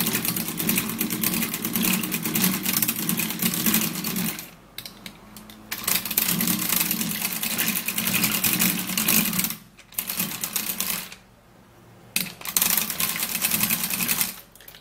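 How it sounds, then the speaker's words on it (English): A manual mixer churns skincare ingredients with a steady mechanical whirring, close and fairly loud. It runs continuously with brief pauses near the middle and toward the end. "I have a manual mixer in which I'm going to be using to mix this all up."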